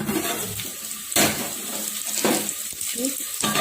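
Onions frying in a pan while a ladle stirs them until they brown, with loud sizzling and scraping strokes in irregular bursts, close up.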